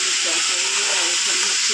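Soybean chunks frying in a home kitchen pan give a steady, close hiss and sizzle that fills the whole short stretch, with faint voices murmuring underneath.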